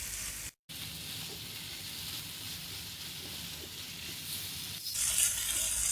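Chicken pieces fry with yogurt in a pan over raised flame, a steady close sizzle that briefly cuts out early, then swells brighter and louder near the end.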